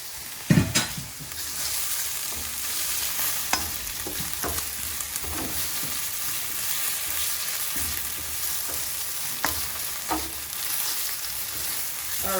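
Tinned mackerel frying in coconut oil in a pan, a steady close sizzle broken by occasional sharp pops and light scrapes of stirring, with no voices.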